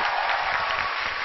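A brief burst of steady, dense applause from the crowd at a stand-up comedy show.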